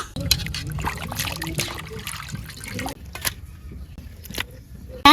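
Water trickles and splashes close by as fish is rinsed in a village kitchen, with faint speech underneath.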